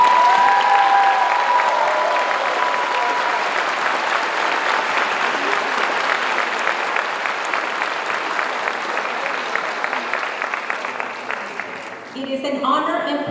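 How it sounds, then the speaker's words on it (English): An audience at a 2022 high school graduation ceremony breaks into sustained applause for the graduating class, a dense, loud wash of clapping and crowd noise that slowly thins and tails off near the end. "Give them a big round of applause."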